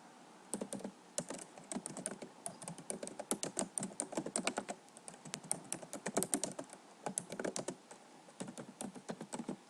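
Someone types an address on a computer keyboard: rapid, close key clatter in irregular bursts with short pauses, and no voices.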